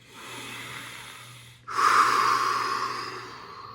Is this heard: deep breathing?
yes